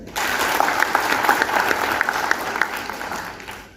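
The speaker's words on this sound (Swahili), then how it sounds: "Mpigieni makofi." An audience at a gathering gives a lawyer a sustained round of applause, many hands clapping together loud and steady for a few seconds before slowly tapering off.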